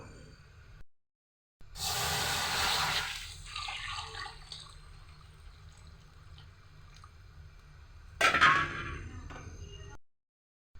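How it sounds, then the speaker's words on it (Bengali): Water is poured into a pot to boil pasta: a rushing, splashing stream runs for a couple of seconds, quieter trickling follows, then a second louder pour comes before it stops. "পাস্তা সিদ্ধ দেওয়ার জন্য আমি এখানে পানি দিয়ে দেব"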